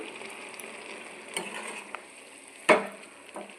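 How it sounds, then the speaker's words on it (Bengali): Drumstick flowers cooking in a pan, stirred with a few soft scrapes over a faint low sizzle, and one sharper clatter of a utensil against the pan partway through; quiet and close, with no talk. "ভালো করে নেড়ে চেড়ে ঢাকনা দিয়ে দেবো সেদ্ধ হতে"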